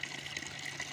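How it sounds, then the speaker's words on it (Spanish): Fresh mountain spring water pours steadily from a fountain spout, a continuous close trickling splash with no voices. "más bueno, cae de agua fresquita"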